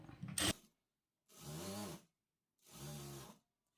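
Sewing machine stitching the folded open edge of blouse fabric, two short bursts of close, quiet mechanical whirring separated by pauses, after a brief clack.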